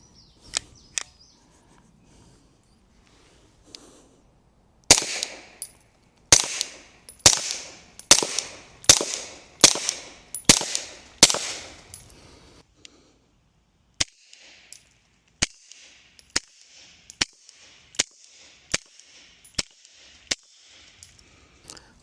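Suppressed shots from a Beretta 92 Compact pistol fitted with a Dead Air Mojave 45 silencer: a couple of sparse shots, then a fast string of about eight sharp cracks, followed by a slower, fainter series of pops, no talk.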